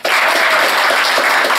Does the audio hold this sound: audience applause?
yes